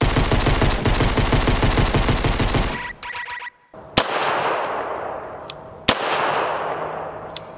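Beretta 92 pistol shots: a loud fast string of rapid reports in the first three seconds, then three single sharp cracks, each trailing off into an outdoor decay.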